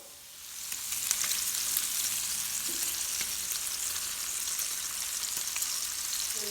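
Bacon sizzles steadily on a 22-inch Blackstone griddle, a loud, continuous hiss and crackle heard close up without any voices.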